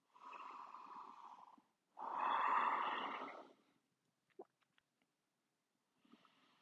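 Slow, audible breaths taken while resting in child's pose during a back exercise routine, two long close exhales followed by faint rustles and a softer third breath.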